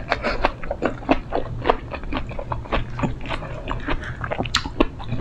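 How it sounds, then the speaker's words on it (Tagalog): A big bite of lato seaweed with fish and mango, close up, with crisp biting and wet chewing in an uneven rhythm and no talk. "One big bite."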